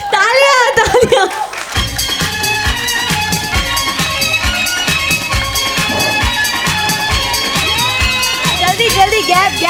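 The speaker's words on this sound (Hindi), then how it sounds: "तालियां।" A game show audience of women claps and cheers in a loud, busy burst, with shouting and chatter mixed through the sustained clapping.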